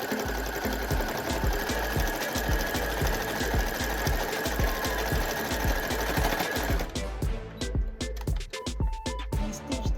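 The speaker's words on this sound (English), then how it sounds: "When you stitch those edges together, it completes this piece" A sewing machine stitches the edges of an African print jacket, a fast, steady mechanical rattle of needle strokes close by that runs continuously for several seconds, then slows into a few separate clunks as it stops.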